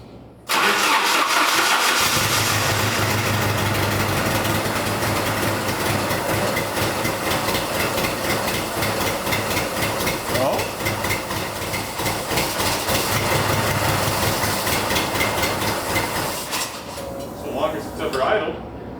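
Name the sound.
abandoned Jeep engine starting and idling with misfire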